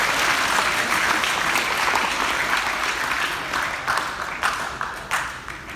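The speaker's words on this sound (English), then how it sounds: "Give a round of applause." An audience in a school chapel applauds, a dense wash of many hands clapping at once that tapers slightly and turns more scattered toward the end.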